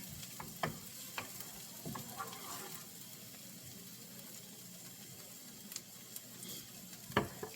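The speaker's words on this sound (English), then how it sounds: "I'm sauteing this in some butter." Chopped vegetables sauteing in butter for chicken fried rice, giving a quiet, steady sizzle broken by scattered sharp clicks and scrapes of a utensil against the pan.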